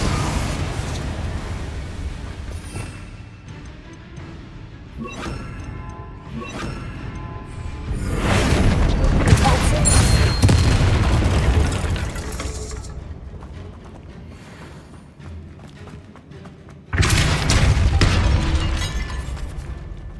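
Confringo blasting spells erupting in Hogwarts Legacy, sustained roaring explosive bursts with crackling debris that swell, fade, then hit again loudly near the end, with no talking over them.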